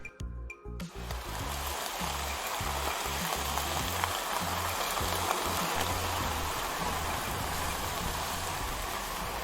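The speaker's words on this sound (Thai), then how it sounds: "ตอนนี้ก็ฝนตกอีกแล้วนะคะ" Steady rain pours down outdoors on a trip in Chiang Mai, Thailand, a dense, even hiss that runs unbroken and fairly loud throughout.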